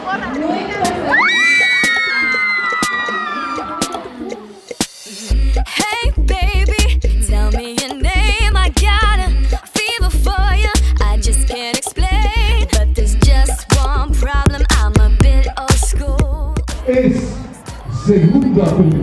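Girls in a school crowd at a pageant-style event shout rhythmic cheers in loud bursts, with a high squeal at the start followed by repeated chanted calls and crowd noise.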